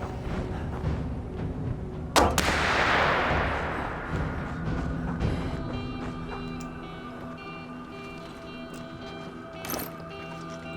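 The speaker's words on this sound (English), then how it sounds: "Sniper ain't letting up." A single distant sniper rifle shot in This War of Mine cracks and echoes into a long decaying rumble, followed later by another sharp report over a steady low droning background.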